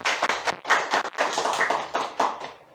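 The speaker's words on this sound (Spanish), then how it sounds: "por favor, un aplauso para el doctor Elmer Lezama" A small group claps to welcome a doctor in a studio broadcast on immunology, with a short, uneven burst of claps in close, clustered bursts that thins and stops within a few seconds.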